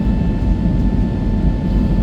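Steady airplane cabin noise during flight, a loud, even low roar with a constant hum and no talk.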